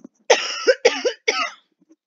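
A person coughs three times in quick succession, close and fairly loud, in an otherwise quiet room.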